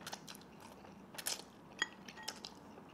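Someone bites into and chews spicy kimchi-flavored fire noodles, with several soft, close crunchy bites and moist chewing sounds, plus a faint clink of cutlery, all quiet and without talk.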